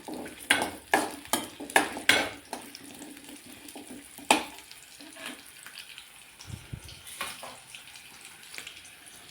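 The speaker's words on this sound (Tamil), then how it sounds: "இதை நல்லா வறுத்துக்கோங்க. வெங்காயம் புளியும் நல்லா எண்ணெயில் வதங்கட்டும்." Onion and tamarind fry in oil for an okra gravy, with a soft sizzle running under a quick run of sharp clinks and scrapes from the stirring spoon early on, then a quieter simmer with occasional taps.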